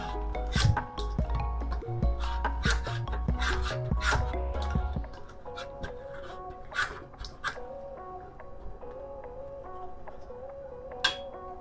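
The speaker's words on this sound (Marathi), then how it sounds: "ह्याच्यावर आता आपण लास्ट चीज खिसून घेऊ आणि ह्याच्यावर टाकू." Cheese being grated by hand over a homemade pizza, a steady rasping scrape in repeated strokes up close, with soft music playing underneath throughout.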